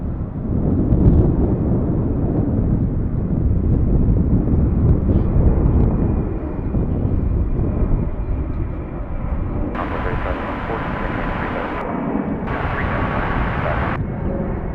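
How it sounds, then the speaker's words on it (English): An Airbus A380 taxis out at DFW airport in Dallas, its steady engine roar rumbling continuously with wind buffeting the microphone and a higher jet whine rising near the end. "There's our A380 we saw earlier taxi out from UPS."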